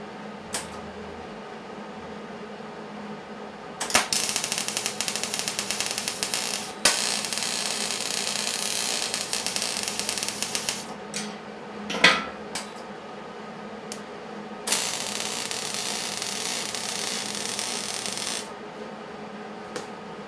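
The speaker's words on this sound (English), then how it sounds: "The last step is to weld the last little tab we have onto the center" Welding a small metal tab onto the center of a homemade video light assembly: three sustained runs of loud, steady crackling hiss, each lasting a few seconds, separated by quieter pauses with scattered clicks.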